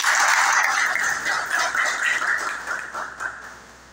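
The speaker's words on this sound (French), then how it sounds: "On demande de l'applaudir, s'il vous plaît" Audience at a bar association ceremony welcoming the new bar president, a dense wash of many hands clapping that starts full and gradually fades away over a few seconds, with no talk on top.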